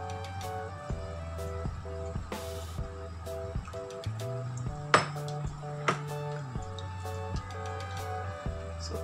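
A spoon stirs a thick sago custard pudding mixture, giving light, irregular clinks and scrapes against the pot, faint beneath steady background music.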